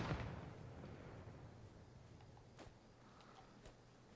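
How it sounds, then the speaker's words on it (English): A Soviet frag grenade detonates in Arma Reforger, a muffled boom at the start that rumbles and decays, followed by faint scattered distant pops. "Yep, that's a frag. That's a Soviet frag."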